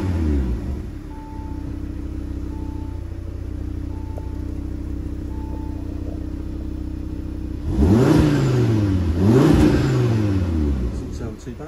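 An Audi RS3 Vorsprung idles steadily up close, and near the end its engine is blipped twice with rising and falling revs, sharp and loud over the settled rumble.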